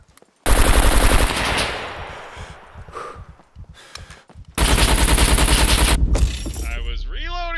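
Gunfire from the online survival game Scum during a PvP event: two long, loud sustained bursts of automatic fire close to the listener, separated by scattered distant shots, with a player talking over the lull.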